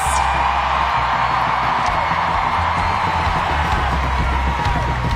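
A stadium crowd at a USWNT vs Mexico women's soccer match applauds and cheers players, a loud steady roar of clapping, whoops and yells that sustains throughout.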